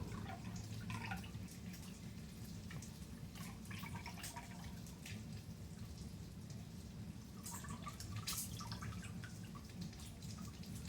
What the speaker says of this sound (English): We're gonna take all that good eye juice, we gonna strain it out and get that warmed up too.